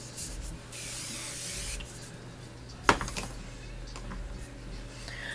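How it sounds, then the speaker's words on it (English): Mineral water face mist spray from a pharmacy bottle, a short soft hiss of spray near the microphone followed by a sharp click and faint rustling in a quiet room. "I am going to spray my face with the mineral water spray from Pharmacy"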